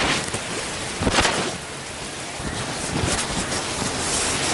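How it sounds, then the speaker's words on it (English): Steady rain coming down, a dense broadband hiss with a few louder gusts of patter, continuous and fairly loud with no voices. "that rain coming down"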